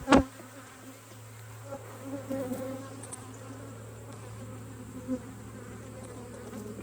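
Honeybees buzz steadily around an open beehive during an inspection, a continuous mid-pitched drone with a low hum underneath, close and fairly loud, with no talking.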